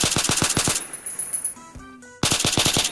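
Rapid automatic gunfire from the Roblox hood roleplay game Liberty comes in loud, close bursts, a clattering volley, a short pause with a few electronic tones, then another fast burst.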